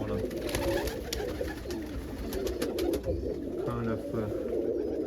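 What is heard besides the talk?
bird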